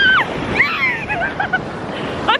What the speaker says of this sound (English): these waves are vicious